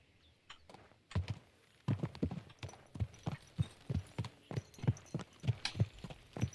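Horse hooves clopping steadily along a road in the medieval video game Kingdom Come: Deliverance 2, an even walking rhythm of soft, close thuds over a faint ambient hum.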